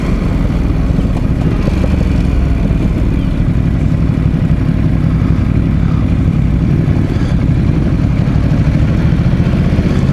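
A 2017 Ducati SuperSport motorcycle engine runs loud and close in a continuous, throbbing low rumble that holds steady for the whole stretch, with no voices over it.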